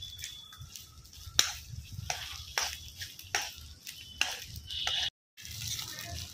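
Fish roe frying in a pan for a fish curry meal, with a soft steady sizzle broken by sharp scraping stirs and clicks of a spatula, fairly quiet and close with no talking.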